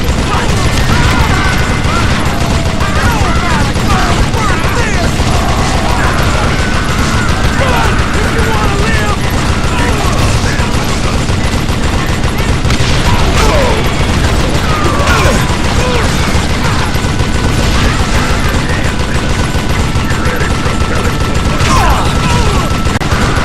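A dense gunfight from the Western shooter Call of Juarez: Gunslinger, with loud continuous rapid shots, clattering impacts and mechanical clicks mixed into constant heavy game noise throughout.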